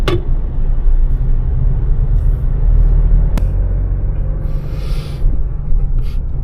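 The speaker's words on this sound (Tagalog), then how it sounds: "Puro na mga tricycle, motor." Traffic on a city road in Palawan with tricycles and motorcycles passing, a constant loud low rumble of engines close by, with a brief sharp knock early on and a fainter swelling pass near the end.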